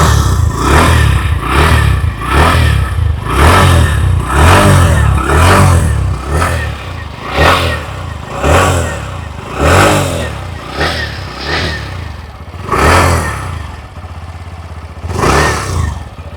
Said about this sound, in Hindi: फर्स्ट में सुन लेते हैं हीरो ग्लैमर एक्स की एग्जॉस्ट नोट।